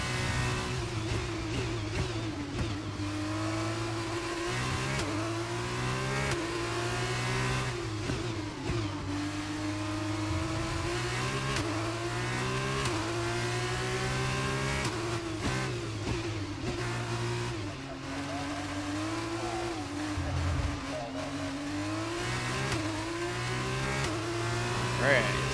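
A Formula 1 car in the F1 22 racing game revs steadily and climbs through gears, its loud mid-pitched engine whine rising and dropping in repeated sweeps across the whole stretch, with a voice talking over it.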